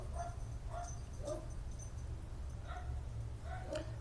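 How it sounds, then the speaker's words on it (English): A few dog barks sound at a distance, scattered short yaps over a low steady hum of background noise. "I kind of want to deal with the dogs barking."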